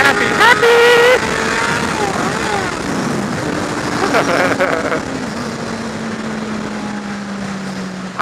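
A motorcycle engine revs and climbs through gears during a wheelie, with rising and falling whines and wind roar, loud and close, under excited shouting from the rider.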